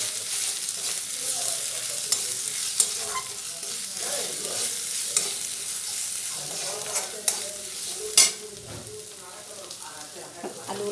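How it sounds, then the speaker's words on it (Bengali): A spice paste with salt and turmeric sizzles and fries in a pan while a spoon stirs and scrapes it in irregular strokes, close up, with a sharp clatter near the end, for potato chop. "ভালো করে মশলাটা কষিয়ে নিই।"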